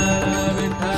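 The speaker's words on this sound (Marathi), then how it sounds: "घंटी नक्की वाजवा।" A bell rings as a sound effect, a bright sustained metallic tone with steady ringing overtones lasting the full second, loud and alone.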